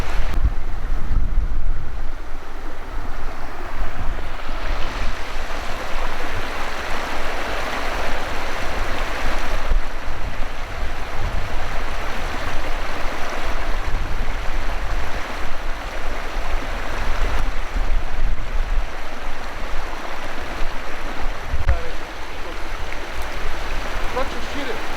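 Water rushing steadily through an overflow channel at a dam in Lipa, a broad continuous outdoor roar mixed with wind buffeting the microphone, with indistinct voices faintly underneath.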